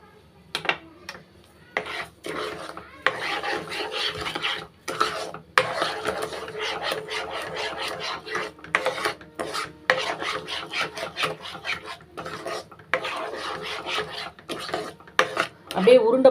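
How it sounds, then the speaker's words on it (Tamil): A spoon scrapes and rubs steadily against a pan while stirring a thick sugar and cornflour mixture, a close, rasping rhythm with brief pauses. "நல்லா கிண்டிக்கிட்டே இருக்கணும்"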